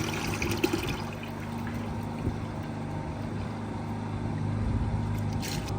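Diesel drains out of the hydraulic system of an Allis Chalmers WD45 tractor in a steady, soft pour and trickle over a low background hum, continuous and unbroken throughout.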